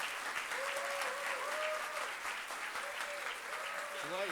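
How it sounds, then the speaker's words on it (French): An audience at a political colloquium applauds warmly, a loud, continuous wall of clapping with a few voices calling out over it. "une bonne main d'applaudissements pour Guillaume et toute la gang qui est derrière"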